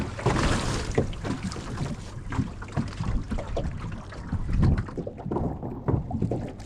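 A Laguna-Kombi+ centerboard dinghy is rowed out into a gulf against wind and waves: water sloshes and slaps against the hull under steady gusting wind buffeting the microphone, loud and close throughout.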